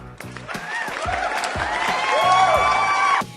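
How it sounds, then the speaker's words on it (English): Audience applause and cheering welcome a guest on a health radio program, clapping and whoops building steadily beneath tonal music that swells before cutting off near the end. "Receive with a big round of applause to Luisa."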